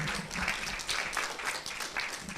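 A round of applause from a seated audience at an Africa economic summit, a dense, steady clatter of many hands for a couple of seconds, fairly close and even in loudness.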